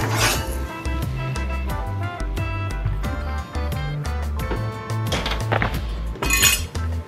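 A casserole dish taken out of an oven gives repeated light clinks and knocks of cookware, irregular and close, with soft clatter between the hits.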